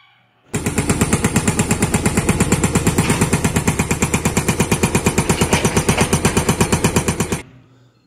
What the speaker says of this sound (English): we have a hydraulic drill. A very big and a very heavy machine